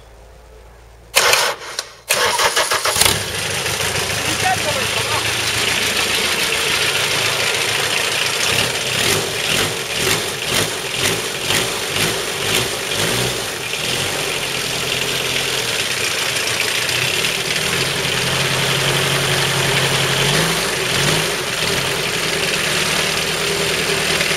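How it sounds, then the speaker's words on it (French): A 1.9 diesel engine swapped into a SuperPony, leaking diesel fuel, cranks with a few short bursts, catches and settles into a steady, loud, slightly knocking idle that runs throughout. "On va le remettre en route pour voir si on démarre."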